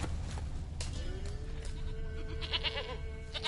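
A goat in The Witcher 3 video game gives a couple of short, wavering bleats against a constant ambient hum, moderately close, with no talk.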